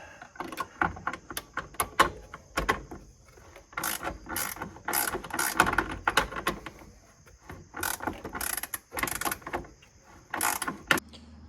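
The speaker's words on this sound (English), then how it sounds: "keep cranking that bolt, and it's gonna pull it right in" A ratchet clicks in quick repeated bursts as it cranks a bolt to press a poly bushing into the differential of a 2006–13 Lexus IS250/350, close and crisp with short pauses between strokes.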